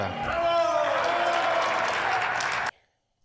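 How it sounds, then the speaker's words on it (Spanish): Opposition senators applaud in the Mexican Senate chamber, a dense, steady burst of clapping from a crowd that holds for nearly three seconds, then cuts off abruptly into silence. "Entonces los de la oposición empezaron a aplaudir."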